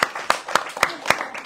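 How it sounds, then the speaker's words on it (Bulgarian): An audience claps in a sparse, uneven round of sharp hand claps, a handful of distinct loud slaps spaced about a quarter second apart in a room. "Give him a clap."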